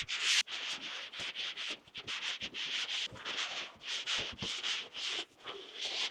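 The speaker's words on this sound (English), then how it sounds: "we're gonna go back over it with our sanding disc" A sanding disc works over a repaired ceiling where popcorn texture was removed, producing close, rhythmic abrasive rubbing strokes separated by brief pauses, with no talking.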